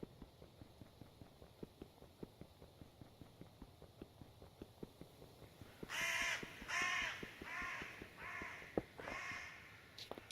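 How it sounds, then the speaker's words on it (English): Crows caw in the Minecraft video game, a run of harsh repeated calls arriving about midway through over a steady patter of footstep-like clicks. "There's crows in Minecraft now?"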